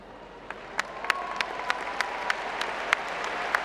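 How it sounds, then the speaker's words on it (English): Graduates and alumni standing in a commencement audience applaud, a steady wash of clapping with sharper individual claps popping out roughly every few tenths of a second, moderately distant across the hall. "applaud the newest members of our UNI alumni community"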